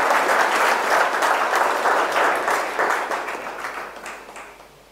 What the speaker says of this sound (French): vous pouvez les applaudir parce que ça n'arrive pas souvent